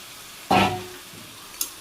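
Goat mutton coated in ground cumin is stirred in a hot pan, giving one sudden sizzling scrape that fades out, followed by a faint click a moment later.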